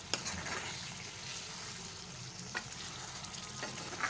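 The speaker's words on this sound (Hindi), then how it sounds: "थोड़ा सा इसमें पानी डाल देते हैं क्रीम में और इसको मिक्स करेंगे" Beef karahi with cream and water being stirred in a pan, a steady close sizzle with soft scraping strokes and a few sharp utensil clinks, no talking.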